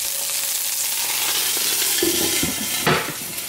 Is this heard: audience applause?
no